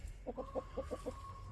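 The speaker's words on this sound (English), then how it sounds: "Chickens are busy doing their thing." Chickens cluck near a loganberry patch, a quick run of six soft, evenly spaced clucks over a quiet outdoor background, faint and somewhat distant with no talking.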